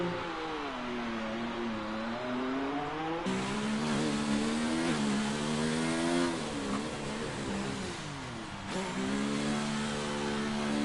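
Formula 1 car engine in F1 2019 at the Chinese Grand Prix, a loud continuous high-pitched whine that rises and falls with gear changes and braking through turns one and two, with brief downshift dips.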